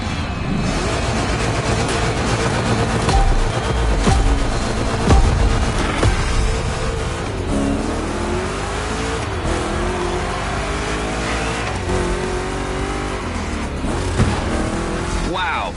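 Chevrolet big-block race cars in The Crew Motorfest roar loudly through a gymkhana-style course, with engines revving and rising and falling in pitch and some tire squeal, while a commentator talks over the racing throughout.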